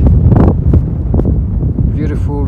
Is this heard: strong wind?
yes